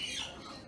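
A parrot in an aviary lets out a single short, harsh squawk, loud and close.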